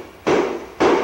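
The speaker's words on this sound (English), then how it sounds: "you can put your puller that you had and just maybe hit them gently to drive them in the rest of the way" Engine cylinder sleeves for an Allis Chalmers tractor rebuild tapped gently into place using a puller, two distinct close knocks spaced about half a second apart, each ringing briefly.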